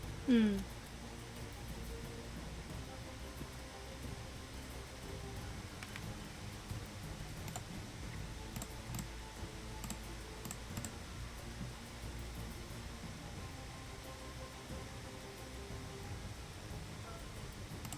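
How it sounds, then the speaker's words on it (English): Quiet, intermittent clicking of a computer keyboard being typed on during an online tabletop game session, faint and close against a low background hiss, with no talk over it. "Papa's typing right now."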